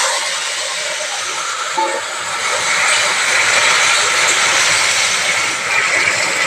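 Malabar spinach and hilsa fish heads go into a hot pan of oil, giving a loud, steady broadband sizzle that runs evenly throughout and swells slightly in the middle.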